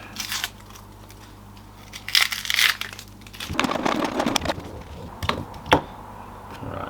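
A knife trimming, halving and peeling a red onion, with crisp crunching cuts and crackling, rustling peel sounds in irregular bursts, close and fairly loud.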